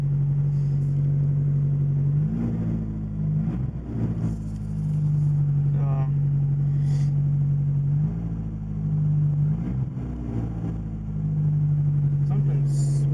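A 1980 Porsche 924 Turbo (931), just cold-started and smoking a little, holds a steady humming idle broken by a couple of short throttle blips that rise and fall, with brief voices in the background.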